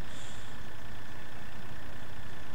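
A tractor engine in the farming game Landwirtschafts-Simulator 2013, pulling a huge plough, rumbles in a dense, steady drone, loud and close throughout with no voices.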